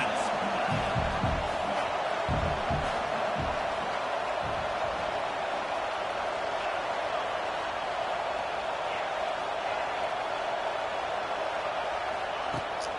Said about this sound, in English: Listen to this crowd just shaking the girders of this place,